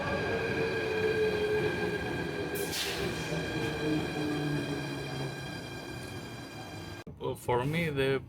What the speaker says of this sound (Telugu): ఇక్కడ నుంచి మళ్ళీ ఇంకొక ట్రైన్ ఎక్కబోతున్నాం